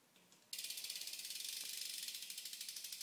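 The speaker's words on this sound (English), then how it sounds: "This is the hub sound." A Stolen Roulette cassette hub on a BMX bike with a 9T driver ticks in a fast, even ratchet of clicks as the wheel freewheels. The clicking starts abruptly after a couple of faint ticks and continues close and steady.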